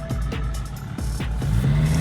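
A BMW E39 touring car with an M57 diesel engine, a steady low engine rumble close by with rhythmic pulsing thumps, rising slightly toward the end.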